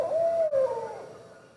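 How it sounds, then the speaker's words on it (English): A young barred owl gives a single drawn-out wavering call that slides downward and fades, fairly close and alone in a quiet outdoor setting. "that is the noise that young barred owls make"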